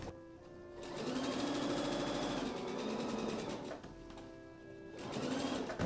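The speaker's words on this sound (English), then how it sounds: "we can just continue sewing down to the other leg hem" A sewing machine stitches a seam on pajama pants with French seams, running in steady rapid bursts close up with brief pauses between runs.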